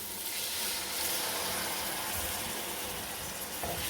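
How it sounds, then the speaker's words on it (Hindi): Water is poured into a pan of chana dal masala with red chilli powder cooking over a medium gas flame, giving a steady soft hiss and sizzle throughout with no talking. "थोड़ा सा हम इसमें पानी शामिल कर देंगे"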